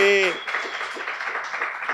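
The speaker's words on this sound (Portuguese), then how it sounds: "Bate palma, time!" A small team claps together in an office or podcast setting, a brief patter of hand claps following a voice, moderately close and mixed with talk.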